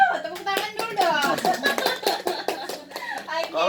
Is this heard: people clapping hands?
yes